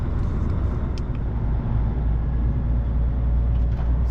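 A truck driving toward a weighing scale, with a steady, loud engine and road rumble heard from inside the cab and no talking.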